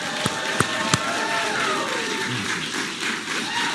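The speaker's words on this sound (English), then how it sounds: "Everyone, round of applause." Audience applause at the Nasdaq MarketSite during an investing panel and market-closing event, a few sharp individual claps at first, then a sustained, fairly loud wash of crowd clapping.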